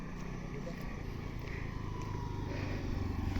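A motorbike engine drones on a hillside road in southern Lalitpur near a landslide, a steady mid-distance rumble that swells slightly toward the end, with wind in the background.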